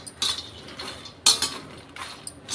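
Makhana (fox nuts) being stirred and roasted in a heavy-bottomed kadhai, giving light clinking and scraping bursts with a sharp metallic clatter midway and no talk.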